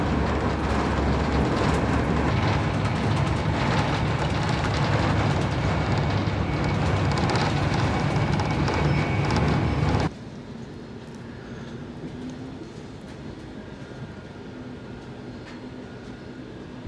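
Avanti West Coast passenger train running toward Preston: a steady loud rumble of the carriage in motion, dropping abruptly to a quieter hum about two-thirds of the way through.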